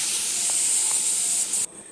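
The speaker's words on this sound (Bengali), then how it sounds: "শাকটা ভাজছি" Leafy greens (saag) sizzling in hot oil in a pan, a steady close hiss that holds for about a second and a half and then drops away abruptly.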